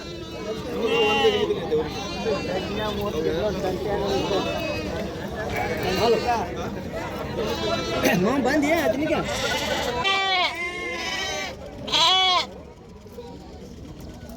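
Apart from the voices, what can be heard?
sheep and lambs bleating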